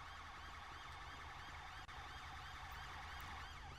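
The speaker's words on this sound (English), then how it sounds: "Here are the ambulances." Ambulance sirens wail in the LSPDFR police game, their rising and falling tones looping steadily over a constant engine and road rumble.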